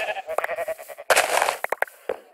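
Sheep in a blocky survival crafting video game bleat repeatedly in quick, overlapping calls, some near and loud, others softer, with a brief burst of clattering noise in the middle.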